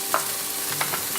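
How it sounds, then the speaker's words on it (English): Onion sizzles in hot oil in a deep frying pan, a constant crackling hiss with a few soft clicks of stirring, close and steady with no talking. "heat the oil in a deep frying pan and then add"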